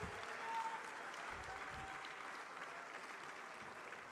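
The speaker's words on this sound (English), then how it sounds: "Please give them a warm round of applause as I introduce them, in no particular order." An audience at the 30th Afreximbank Annual Meetings applauds for panelists, a sustained wash of clapping from a large crowd that holds at an even, fairly distant level throughout.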